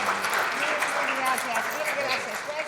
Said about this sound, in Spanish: Un gran aplauso para Rob, gran speaker.